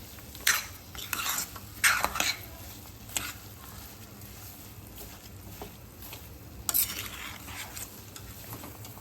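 Jaggery and mawa are stirred and pan-roasted together in a pan for prasad, heard as loud scraping spoon strokes in bursts over a low, continuous sizzle, with no voices.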